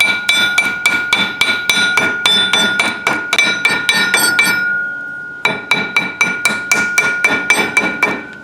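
A hammer taps on a Ford 9-inch rear axle bearing, giving a quick, regular series of loud metallic clinks with a ringing tone, a short pause, then another even run of taps.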